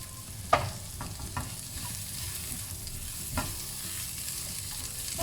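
Chopped onion fries in a pan with a soft continuous sizzle, interrupted by a few scattered clicks and a sharper tap of a utensil stirring, fairly quiet and close.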